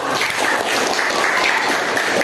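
Students applaud together in a classroom, a dense, steady patter of clapping hands filling the room evenly from start to finish.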